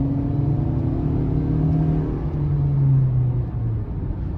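A 2023 Honda CR-V EX with a 1.5 turbo four-cylinder and AWD accelerates uphill in sport mode, a close, steady droning engine note with rising tones and a slightly raspy edge, with no voices.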